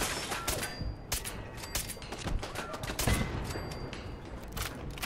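Automated turret firing in Fallout 4, a spray of sharp gunshot bursts and clattering impacts over a busy, noisy game soundscape, with no talking.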